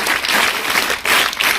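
A crowd at a school memorial programme gives a short, dense round of applause. It is loud and steady with no gaps.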